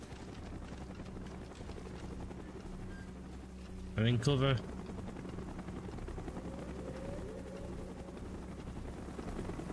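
A helicopter from Call of Duty Black Ops drones in a steady, throbbing rumble throughout, while a brief spoken line cuts in near the middle.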